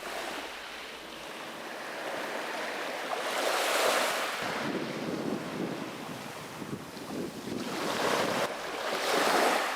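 Waves washing in and out over rounded pebbles on a small pebble beach on an island, surging in broad swells with rushing, rattling wash and some wind buffeting, no voices.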